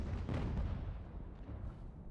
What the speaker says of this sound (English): I'll let them fire another volley